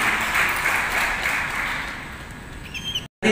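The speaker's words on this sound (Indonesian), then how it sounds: "Kita berikan aplaus buat sahabat kita yang telah dilantik." Audience applause for newly sworn-in district election supervisors at an inauguration ceremony in Tanjungpinang, a steady dense clapping that carries on for about three seconds before cutting off briefly.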